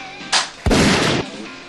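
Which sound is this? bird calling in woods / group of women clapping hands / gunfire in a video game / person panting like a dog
gunfire in a video game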